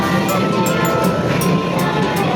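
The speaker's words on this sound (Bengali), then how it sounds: "এটা হচ্ছে ইনায়ার most awaited mini toy train" A mini toy train at the Babuland indoor playground runs steadily with a continuous loud rumble and rolling clatter, close by, with faint periodic clicks and no talk.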